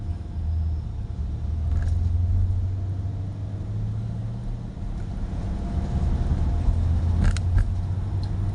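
Heavy traffic at the large Pak Ruam Bowin crossroads on Route 331 in Thailand: a steady low rumble of engines with brief passing surges, continuous and moderately loud, with no voices.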